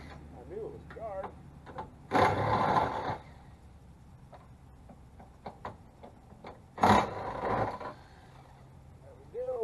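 A DeWalt cordless power tool, used while repairing the trunk of a 2013 Ford Focus, runs in two short, loud whirring bursts separated by pauses, with someone talking in between.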